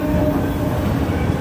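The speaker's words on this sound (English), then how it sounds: "I think this train is slowly starting to come to a stop or standstill." Steady rumbling of a CSX autorack freight train rolling along rails and slowing toward a stop in Woodbine, Maryland, a continuous low roar with faint wheel clatter, close by and fairly loud.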